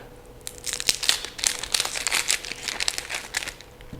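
Papery onion skin is peeled off a halved onion after the root end is trimmed, making close, dense crinkling and crackling for several seconds in quick irregular bursts.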